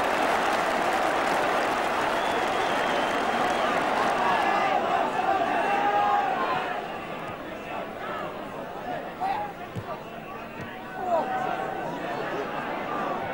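A football crowd at a 1982 English league match roars and applauds a player, a broad wash of stadium noise that swells, then drops to a lower murmur partway through. A commentator's voice talks over it.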